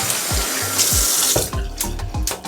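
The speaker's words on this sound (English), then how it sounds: "And let me rinse my hands again." Tap water running into a sink while hands are rinsed under it, a close steady splash broken by wetter slaps and gurgles as the hands move through the stream.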